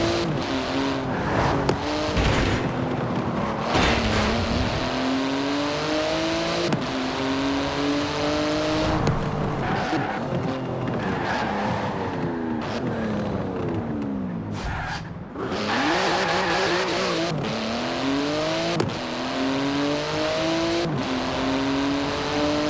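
Porsche GT2 RS in Forza Horizon 4, with a titanium exhaust, racing hard: a loud engine revving up and down through gear changes, with tire squeal and skidding through corners.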